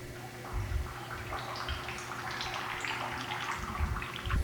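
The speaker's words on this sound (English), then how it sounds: "When the camera touched the water, one of the lights began to slowly fill with water, and the camera gradually started sinking deeper toward the bottom" Water rushes and gurgles around a dropped camera as it sinks, a continuous muffled churning with low bubbling thumps, heard close and without voices.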